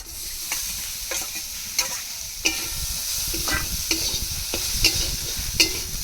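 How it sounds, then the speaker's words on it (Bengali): Boiled potato peels fry in a pan under steady close sizzling, while a spatula stirs and taps against the metal in irregular strokes about once a second, with no speech. "এবার এটাকে নেড়ে চেড়ে কিছুক্ষণ ভেজে নেব।"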